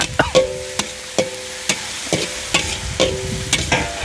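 Chili and garlic being stir-fried in a pan for Thai pad cha with pork, with a steady sizzle broken by sharp, regular scrapes and clacks of a utensil against the pan, close and fairly loud, with no talking.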